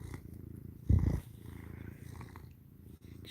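A pet cat purring close by in a steady low rumble, with a brief louder burst near the start, alone with no voices.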